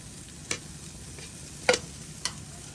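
Prawns go onto a hot grill rack, producing a low background sizzle broken by three sharp clicks and taps as they are spread out, with no voices.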